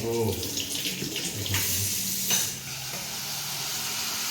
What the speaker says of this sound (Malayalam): ഇതാ ശർക്കരപ്പാനി ഒഴിക്കാനായോ